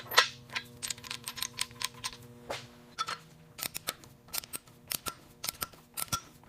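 A torque wrench tightens engine bearing caps during an engine rebuild: a series of sharp, close clicks in irregular bursts, some in quick pairs, over a faint low hum, with no voices.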